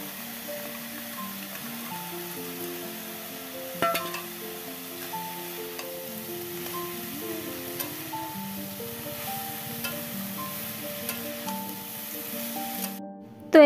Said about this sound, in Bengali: লাল শাকটা ঢেলে দিয়েছি আর লবণ দিয়ে এখন আমি নাড়াচাড়া করছি।